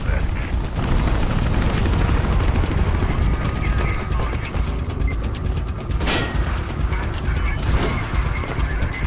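Helicopter in the game Mirror's Edge, a loud continuous rhythmic rotor chop with mechanical clatter and occasional sharp bangs, a voice talking over it.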